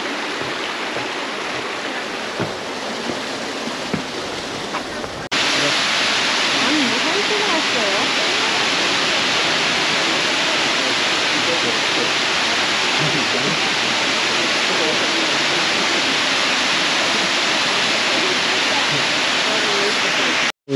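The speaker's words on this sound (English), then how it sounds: "Is Myrtle Creek Falls." Myrtle Creek Falls in the Columbia River Gorge roars as a steady, loud wash of falling water, nearby and continuous, growing fuller after the first few seconds.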